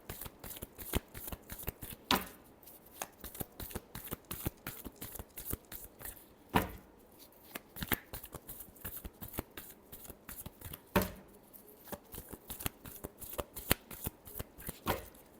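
Tarot cards being shuffled by hand during a reading, a steady run of crisp riffling flicks and soft slaps with a few louder snaps, close up and alone with no talking.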